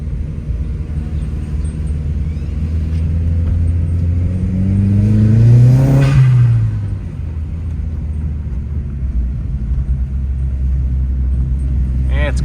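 A car engine, apparently a 337 GTI, revs while driving, rising to a loud rumbling peak mid-clip and then settling back into a steady cruising drone heard from inside.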